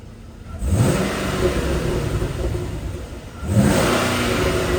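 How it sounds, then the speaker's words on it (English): A Chevrolet Caprice PPV police car engine with newly installed headers and converter, revved twice from idle; two rising blips stand out against a steady, loud engine drone close by, with no talking. "I'll give it a couple revs. I think you hear more engine than anything."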